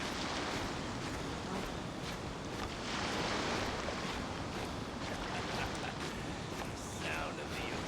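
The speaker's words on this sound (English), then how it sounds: "Sound of the ocean." Ocean waves in Genshin Impact make a broad, steady wash of surf and wind noise that swells slightly in places, continuous and fairly close throughout.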